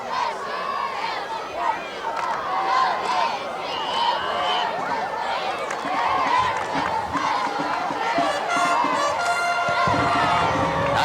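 A packed crowd at a 1986 East Brunswick versus Woodbridge high school football game cheers and shouts steadily at kickoff, a dense, loud roar that runs throughout.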